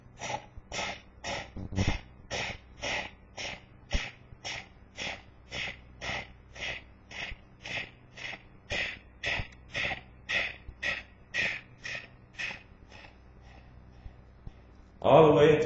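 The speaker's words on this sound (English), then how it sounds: "breathe 2 breaths per second for 30 seconds in the first set" Rapid Kapalbhati Pranayama breathing in a Bikram hot yoga class: sharp, forceful nasal exhalations at about two per second, a long, even rhythmic train of puffs that stops near the end before a louder breath.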